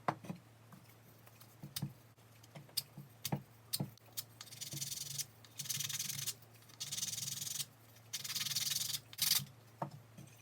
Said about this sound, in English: I want to do is sand these